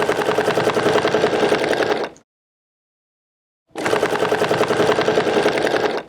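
A sewing machine stitches a pointed leaf design in two loud, steady runs of about two seconds each, separated by a brief complete silence.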